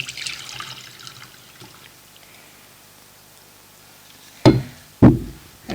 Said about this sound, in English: you pour all your liquid off through a normal strainer into a bowl